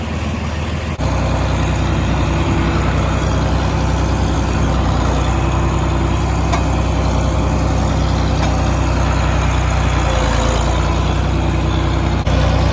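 A 4320 tractor's heavy diesel engine idles steadily and loudly up close, a low constant rumble with no voices, continuing unbroken for the whole stretch.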